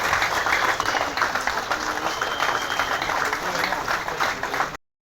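A crowd applauds at a public gathering, with dense, steady clapping that stays loud and close throughout and then cuts off abruptly at the end. Voices are faintly mixed in.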